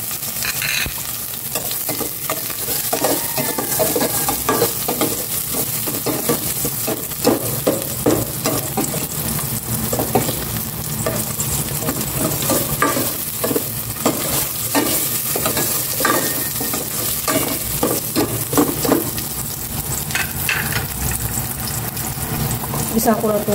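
Onion and garlic sautéing in oil in a pan, a steady sizzle with repeated scraping stirs throughout, close and fairly loud, with occasional voice in the background.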